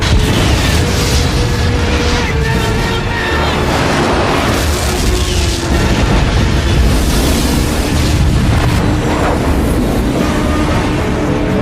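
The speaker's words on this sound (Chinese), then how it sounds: "刹那间产生了巨大的爆炸" A dense, continuous rumbling roar with booming low end and crackling debris, loud throughout like a massive explosion and its aftermath.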